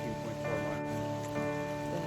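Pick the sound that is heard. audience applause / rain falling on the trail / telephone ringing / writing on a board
rain falling on the trail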